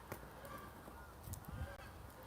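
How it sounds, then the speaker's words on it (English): Faint clucking and cackling from a hen that has just laid an egg, somewhere off in the distance, a few uneven squawks over quiet outdoor background. "A hen's laid an egg."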